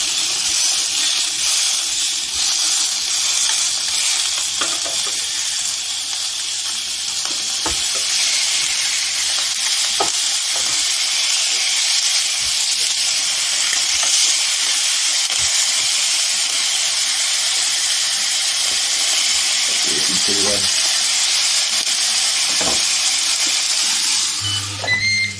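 Pork chops cook on a Ninja Foodi Max Pro Health Grill with the lid closed, giving a continuous close hiss and sizzle. Occasional soft knocks and a low hum come through near the end.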